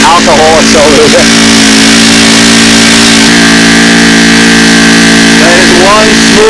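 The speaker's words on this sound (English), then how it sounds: "That is one smooth running engine" A four-stroke Cardinal-type model airplane engine runs loud and steady at close range, its even drone holding throughout with brief pitch wobbles, while someone speaks over it.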